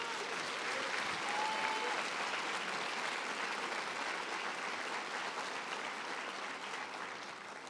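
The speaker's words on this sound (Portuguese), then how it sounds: "Se você acredita, dá uma salva de palmas," Sustained applause from a church congregation during an evening service, a steady dense wash of many hands clapping that holds for several seconds and eases slightly toward the end.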